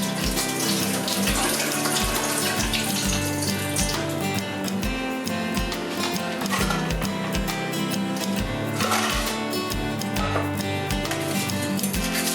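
Rice being rinsed under a running tap for sushi, with a steady, close stream of water splashing into a bowl or sink continuously throughout and no talking.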